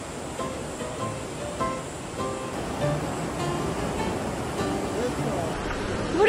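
A waterfall pours onto rocks at a campsite stream, giving a steady broadband rush throughout, close and moderately loud, with faint voices partly audible beneath it.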